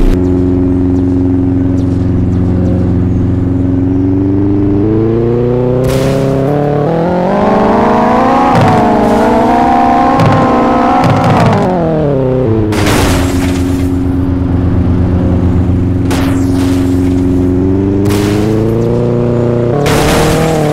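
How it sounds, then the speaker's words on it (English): A loud car engine in a Roblox car game revs up and down repeatedly, pitch climbing and falling, with several sharp bursts of noise cutting in. "I think this car goes a little faster and louder."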